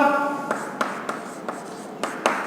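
Marker or chalk strokes on a classroom board tap and scratch in short bursts, about half a dozen distinct strikes spaced irregularly, close and fairly crisp.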